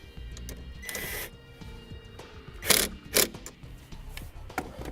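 A nut being tightened onto the positive battery terminal stud during a trailer wiring harness install on a 2016 Chevrolet Traverse, with close, quiet metallic ratcheting clicks and a few sharper clacks, no talk.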